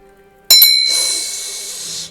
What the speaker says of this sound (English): Cover your ears if you don't like loud bell noises.